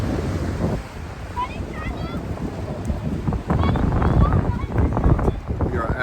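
Wind and surf at a Pacific Ocean beach make a continuous rumbling roar, with gusts buffeting the microphone and waves swelling louder partway through, while voices talk faintly in the background.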